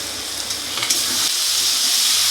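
Soybean chunks fry with spice masala for a fish-head curry, producing a loud, dense sizzling hiss with a few faint stirring knocks, no speech.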